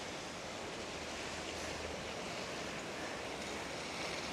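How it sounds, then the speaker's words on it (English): A river flowing beside a railway bridge in a mountain town, heard as a steady broadband rush of water that stays even and continuous throughout with no voices. "So here's the river."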